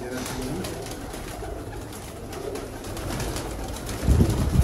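Pigeons coo softly in a loft housing baby pigeons, low murmuring calls under steady background noise, with a louder burst of fluttering or handling near the end.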